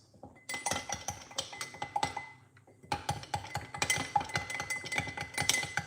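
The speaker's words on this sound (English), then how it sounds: "put a pinch of cinnamon powder into it. All right, and mix that like this" Metal spoon stirring a pinch of cinnamon powder into an apple cider vinegar drink, giving rapid, repeated clinks against the glass in two bursts with a short pause between, close and fairly quiet.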